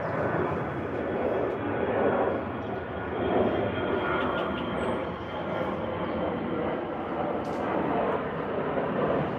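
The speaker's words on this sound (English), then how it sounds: "Another plane." An airplane flies overhead, a steady broad roaring drone that holds loud throughout, heard outdoors with no talking over it.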